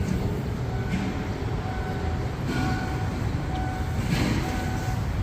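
Freight train 818, hauling empty flatcars, rolls past at Makkasan with a loud, continuous rumble and clattering, a heavy low roar that stays steady throughout.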